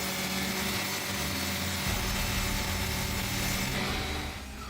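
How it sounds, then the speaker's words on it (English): A Vance grinder reducing large hardwood logs to pieces makes a loud, steady mechanical roar with dense grinding and crunching that carries on without a break, easing slightly at the very end. "the Vance grinder takes just minutes to reduce substantial logs into manageable pieces"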